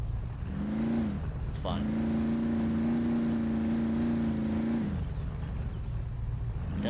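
Jeep CJ7 Renegade engine in the MudRunner video game idles, then rises into a steady, sustained drone as it crawls, dropping back near the end; someone speaks briefly over it.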